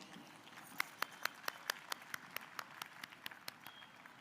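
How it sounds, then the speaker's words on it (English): Quiet, sparse applause from a small audience at a school felicitation ceremony in a hall, with distinct individual claps in an uneven rhythm and no voices. "Let's give a round of applause."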